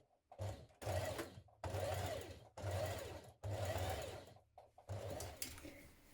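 A domestic sewing machine stitches around the curved top edge of a jacket, running in five or six steady motor bursts separated by short pauses, close and fairly quiet, with no talking.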